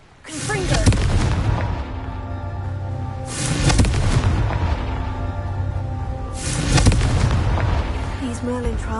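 Confringo explosion spell blasts in a video game, three heavy booming explosions at regular intervals, each with a rumbling decay, loud and close.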